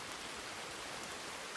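Rain falls steadily in a Western role-play video game, a faint, even hiss with no breaks, heard alone for a brief moment.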